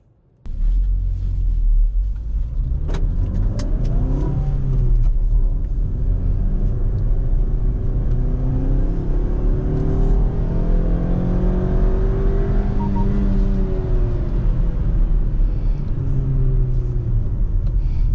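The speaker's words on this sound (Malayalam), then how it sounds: "തേർഡ് ഗിയറിൽ ഞാൻ 30 ഇൻ ഗിയർ ആക്സിലേഷൻ കണ്ടോ, നോക്ക് ചെയ്യാതെ വണ്ടി കയറി പോയി കണ്ടോ" A Maruti Suzuki Victoris with a manual gearbox pulls away in third gear from about 30 km/h without knocking. Its engine gives a steady, loud, close-up rumble that rises gently under load, with no talking.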